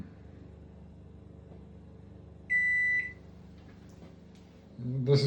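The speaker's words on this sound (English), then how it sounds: "I've just been sitting watching the TV and it started beeping all by itself." A Daewoo microwave oven with a fault beeps on its own: one steady electronic beep of about half a second stands out over a low room hum, followed by faint clicks and a louder rumble at the end.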